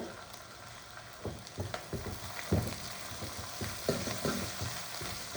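Fried gram curry being sautéed in a pan, a soft sizzle under repeated spoon scrapes and knocks against the pan, uneven in rhythm and close by.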